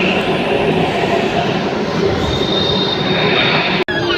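A Hyderabad Metro train on the Blue Line moving along the platform, a loud, steady rumble of wheels with a thin high squeal riding over it, cut short by a brief click near the end.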